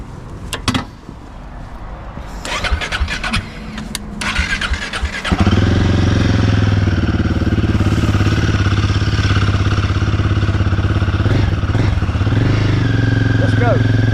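A Royal Enfield 450 Guerrilla motorcycle fires up partway through after some brief voices and handling noises, then settles into a loud, steady, close-up running throb that continues to the end.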